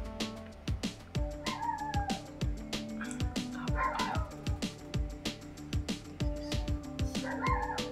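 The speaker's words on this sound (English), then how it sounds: "in case you get to hear dog barking, please excuse me" Dog barks and yips sound in a home, repeated sharp bursts scattered across the stretch at moderate distance, mixed with other indoor noise and no clear speech.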